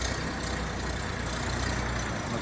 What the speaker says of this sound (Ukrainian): Ось такий от трактор їде до свого власника